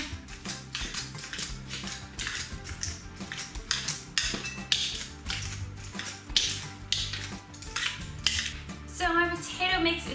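Flour being mixed into a potato croquette mixture in a bowl, a rapid run of clinking, tapping utensil strikes against the dish, close and busy, without talk.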